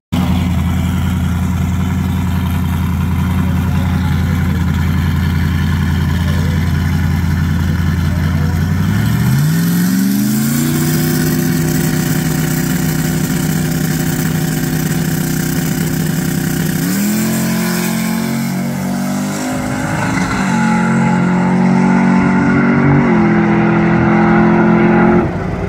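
A 1980 Trans Am with a turbocharged Gen 1 small-block Chevy, blow-through carburetor and 8 psi of boost holds a loud 3800 rpm launch, then accelerates hard with rising engine pitch and gear changes. The engine stays close and roaring throughout.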